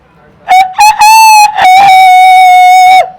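A human voice mimics a rooster's crow, a loud, close, stretched cock-a-doodle-doo call delivered once with a few choppy notes at the start.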